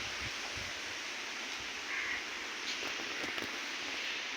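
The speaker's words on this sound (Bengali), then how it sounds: "বৃষ্টি শুরু হয়েছে, যে বাতাস হচ্ছে।" Wind gusts steadily as a rainstorm begins, a broad rushing noise with rustling leaves and a few faint ticks, fairly soft and continuous, no voices.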